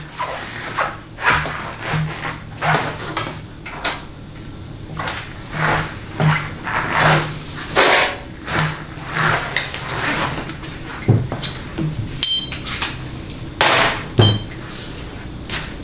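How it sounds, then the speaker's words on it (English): Metal parts of a GM 200-4R automatic transmission clink and tap as the parking pawl guide plate and two 13mm bolts go in, giving a run of sharp, close knocks and rattles, with several brighter metallic clanks near the end. "last step in the process is to install the parking pole guide plate and the two 13mm bolts"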